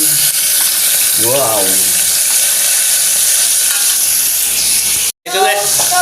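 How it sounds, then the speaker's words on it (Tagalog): Balila fish frying in a pan at home, a steady loud sizzle with stirring noises throughout, a voice exclaiming briefly partway and a short break near the end. "balila na ngayon ang piniprito natin"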